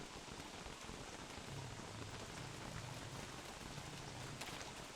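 Steady, even rain hiss in Don't Starve Together, a dense continuous patter that holds at the same level throughout, with no voices over it.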